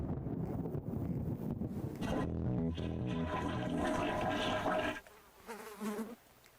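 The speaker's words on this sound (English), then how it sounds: "I had to flush the toilet." Toilet flush in the horror game Behind Closed Doors, a loud rushing, gurgling wash of water that fills most of the clip before cutting off abruptly near the end, followed by quieter scattered sounds.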